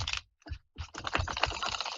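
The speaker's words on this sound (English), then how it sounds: "Shuffle this deck one more time." A deck of tarot cards is shuffled close up in short riffling, scraping bursts, with a brief pause before a longer continuous flutter of cards, alone and fairly quiet.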